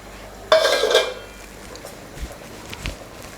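Vegetable bottle gourd biryani mixed in a pressure cooker pot, one loud metallic clank of spoon against pot followed by a few quieter scrapes and taps.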